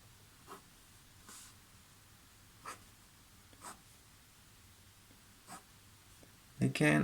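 A Cross Townsend fountain pen nib scratches out Chinese characters in short, soft strokes spaced every second or so, close and quiet, with a louder burst at the end.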